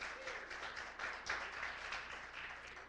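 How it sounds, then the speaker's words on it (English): A church congregation applauds, a steady wash of many hands clapping at a distance, fairly faint and continuous with no voice on top. "Let's give another hand clap."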